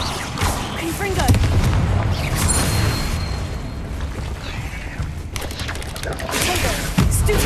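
Explosive Confringo spell blasts in Hogwarts Legacy, loud booming bursts and crackling impacts layered with combat noise through a busy fight.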